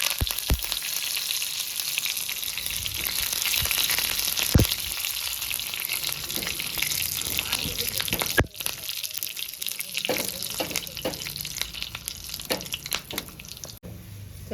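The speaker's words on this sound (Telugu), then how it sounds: "చూడండి బాగా ఫ్రై అయింది తాలింపు." A tempering of cumin, crushed garlic cloves, two dried red chillies and a sprig of curry leaves sizzles and crackles steadily in hot oil, close up. Occasional clinks and stirring noises sound over the frying, with no talking.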